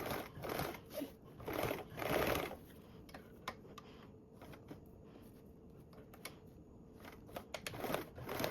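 Sewing machine stitching along a zipper on a tote bag, short bursts of rapid mechanical running separated by pauses and quieter clicks of handling fabric.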